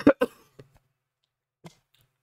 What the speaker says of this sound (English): Gonna get out a couple big coughs.